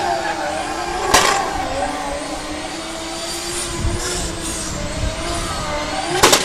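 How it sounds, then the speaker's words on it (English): A drift car doing donuts at a British Drift Championship round at Teesside, with a sustained engine drone that wavers in pitch, sharp tyre bursts near the start and end, and faint voices over it. "when you're doing donuts like that, all the driver's probably going to be looking at is where Matt is"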